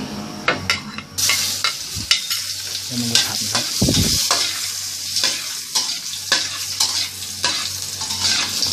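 Garlic frying in a pan for a stir-fry of bean sprouts and soft tofu with oyster sauce and sugar, giving a steady close sizzle broken by repeated scraping and clattering stirs, with no talking.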